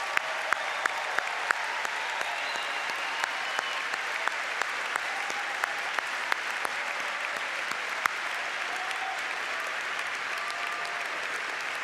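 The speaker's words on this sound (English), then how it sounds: "let's give them one more big round of applause." Sustained applause from a graduation commencement audience at Cal Poly, dense steady clapping from a large crowd at moderate distance, continuing evenly for about twelve seconds with no one speaking.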